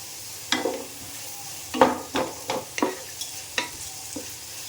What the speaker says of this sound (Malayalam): കുറച്ച് നമുക്ക് ഉപ്പ് ചേർക്കാം സവാള ഒന്ന് വാടിക്കോട്ടെ